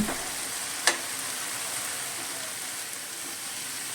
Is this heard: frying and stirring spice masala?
yes